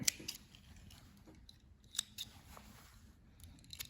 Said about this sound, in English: I'll snip these apart.